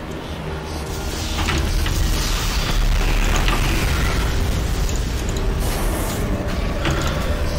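Explosions and rumbling blasts from Doom 3 gameplay with grenades in use, a loud sustained roar with dense mechanical noise and a few sharper bursts.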